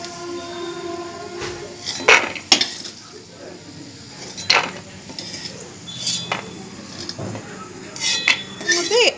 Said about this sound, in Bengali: বাদামগুলো ভাজা হয়ে গেছে, বাদামগুলোকে উঠিয়ে নিচ্ছি